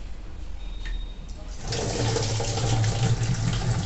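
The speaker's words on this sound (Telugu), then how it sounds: "అప్పుడు ఇందులో ఉన్న వాటర్ మొత్తం తీసేస్తున్నాను" Soaking water is poured off a bowl of green gram. After a quiet start, a steady splashing pour rises and runs continuously to the end.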